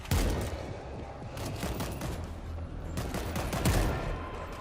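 Dense gunfire in the World War Z video game: rapid overlapping shots form a continuous rattling barrage with heavier thumps near the start and end, loud and close throughout, with no voices.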